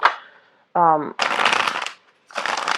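Bursts of tarot cards being riffled and shuffled on a tablecloth, two long rustling runs separated by pauses, with a brief voice sound in between.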